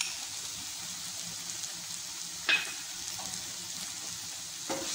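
Boiled baby corn, corn kernels and vegetables sauté on high flame for fried rice, giving a steady soft sizzle with a couple of brief clattering stirs, close and without talk.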